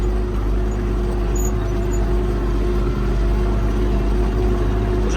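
A steady low engine drone runs unbroken and fairly loud, the hum of an MTZ 892 tractor pulling a KPS 4.2 cultivator in a field, with no voices.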